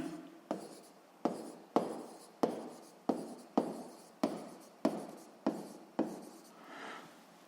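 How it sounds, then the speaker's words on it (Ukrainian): A formula being written by hand during a physics exercise, with about ten distinct strokes of pen or chalk in a steady rhythm, close and quiet, followed by a softer rubbing scratch at the end. "Записуємо за означенням."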